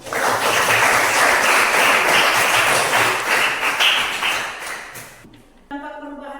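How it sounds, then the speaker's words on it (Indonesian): A class of students applauding in a classroom, loud dense clapping that holds steady, then fades out over the last seconds and gives way to a short tonal electronic sound. "Berikan tepuk tangan."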